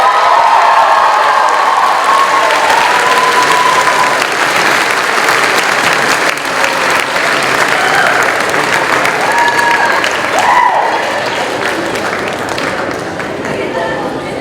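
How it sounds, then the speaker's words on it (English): A large graduation audience breaks into loud, sustained applause with scattered cheers and whoops. The clapping is dense and continuous throughout, with voices mixed into the crowd noise. "Let's give another round of applause."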